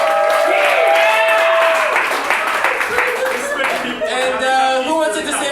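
Crowd applause at an anniversary celebration's vote, sustained clapping and cheering from many people that rises, dips, then swells again, with voices talking over it.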